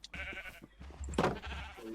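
A Minecraft sheep bleats a few times in short, slightly synthetic-sounding calls, fairly quiet, with no talking.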